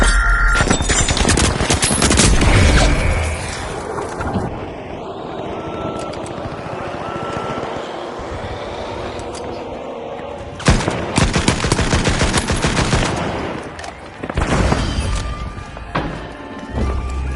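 Gunfire in The Finals, an arena shooter: loud, close bursts of rapid automatic shots in long rattling stretches, broken by a quieter middle passage with softer game sounds before the firing resumes.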